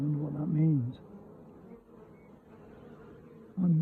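Honey bees buzz in a hive box, a close, wavering hum that swells at the start and again at the end, with softer droning in between.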